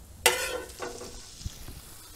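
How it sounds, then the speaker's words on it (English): Garlic fries and browns in a pan for breadfruit gnocchi, a soft sizzle opening with a sharp burst and then fading to a faint hiss, with a small knock partway through. "It looks like the garlic's really browning."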